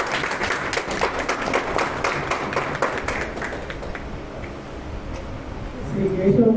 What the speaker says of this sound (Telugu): దయచేసి అందరూ ఒక్కసారి చప్పట్లు కొట్టాలి